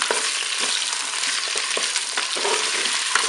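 Potatoes and mushrooms browning in a Cookeo multicooker give a loud, steady, close sizzle with faint crackles and the odd scrape of stirring, and no one speaks.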